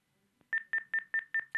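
A call signal on a radio phone-in line: six evenly spaced electronic beeps in quick succession, each a short, bright, clear tone over a near-silent background.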